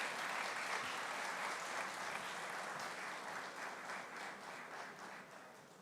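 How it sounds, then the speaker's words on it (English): A summit audience gives sustained applause, a dense wash of clapping that starts strong and gradually thins and fades over several seconds. "Please give him a huge round of applause"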